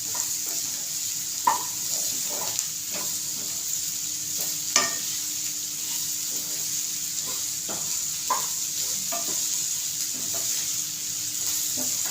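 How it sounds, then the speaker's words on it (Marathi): Home spices sautéing in hot oil over a medium gas flame, with a steady close sizzle and scattered clicks and scrapes of stirring, no talk. "आता मी तेलातच परतते मस्त असं तेलात परतून घ्यायचं"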